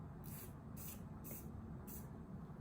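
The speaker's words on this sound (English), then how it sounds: "Let's go ahead and spray my face again." Face setting spray pumped from a close bottle in four short, even hissing bursts, quiet and evenly spaced with brief pauses between.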